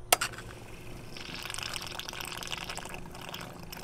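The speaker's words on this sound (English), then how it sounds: "turn the toggle switch on and let it pump all of the water" Water being pumped out through the outlet of a 250 PSI mid-pressure misting pump during winterization, a soft continuous splashing and trickling flow after a sharp click at the start, fairly faint and steady with no talking.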